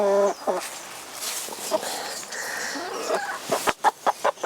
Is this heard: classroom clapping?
no